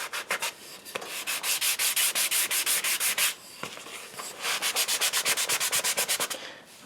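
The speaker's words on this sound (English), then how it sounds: "Hold your sandpaper up and sand" Sandpaper rubs the edge of a wooden Native American flute in quick, rhythmic back-and-forth strokes, close and crisp, in two runs separated by a short pause.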